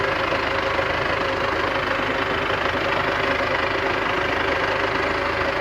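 A Russian-built Belarus tractor engine runs steadily and loudly at close range, with an even, rumbling drone and no breaks or voices.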